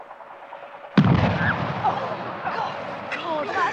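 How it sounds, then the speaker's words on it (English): Acetone explodes in a 1970s science demonstration with a single sudden, loud boom. A rolling, fading rumble follows, and people talk faintly under the aftermath. "so that explosion was mostly acetone"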